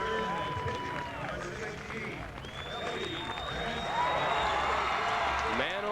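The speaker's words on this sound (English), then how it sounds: "Man, oh man, he'll get a big cheer, won't he?" A crowd cheers and applauds for a player at a 1993 high school baseball championship game. The noise holds steady under a public-address announcer.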